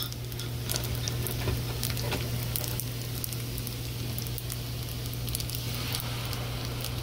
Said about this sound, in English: I scrambled them up, and I'm just going to let them heat up and scramble them